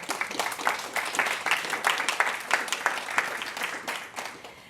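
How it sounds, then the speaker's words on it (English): An audience at a public brain-science talk applauds, many hands clapping in a lively irregular patter that swells and holds steady for several seconds, fairly close and without speech over it. "Let's give a round of applause."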